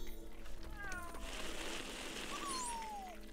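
Cats meow in the Lego Harry Potter video game while digging, with a couple of short rising-falling meows near and clear over busy game sound effects and music.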